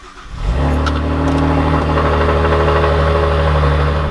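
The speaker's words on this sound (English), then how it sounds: "start the car if I can find my keys here" A Saab 9-3 Turbo X engine cranks briefly, catches and settles into a loud, steady idle nearby.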